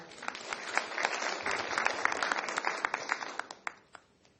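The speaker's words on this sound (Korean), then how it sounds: "위원장님을 따뜻한 박수로 맞이해 주시기 바랍니다." A conference audience at an education forum applauds to welcome a committee chairman to the stage, with steady, fairly distant clapping that swells and then thins out toward the end.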